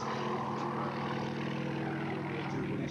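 A propeller aeroplane flies past at the Warbirds Over Wanaka airshow, its engine drone a steady throbbing roar at moderate distance, holding level and continuous with no talk over it.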